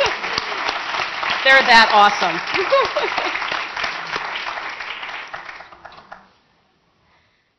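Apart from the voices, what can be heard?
audience applause for speakers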